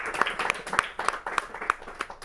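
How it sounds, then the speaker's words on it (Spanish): Applause from a small audience at the close of a talk on Marx and Napoleon, made of distinct, evenly spaced hand claps that ring out clearly with little else around them. "Un fuerte aplauso a Marx y a... Y a Napoleón"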